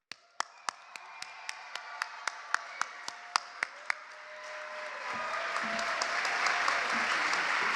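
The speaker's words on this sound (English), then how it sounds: "let's give a beautiful round of applause to our future, Dr. Monica Brown." Sharp, widely spaced single claps ring out at a leadership event, building into a sustained, swelling wave of audience applause that grows steadily louder toward the end.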